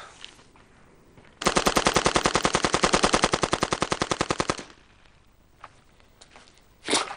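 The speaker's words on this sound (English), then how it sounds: "But if I put it into automatic, turn it into a machine gun, well, let's see if I could hit that van, which is about 50 feet away." A machine gun fires on automatic at a van about 50 feet away, loosing a rapid burst of roughly three seconds of evenly spaced, loud shots, followed by quiet with a few faint knocks and a final thud.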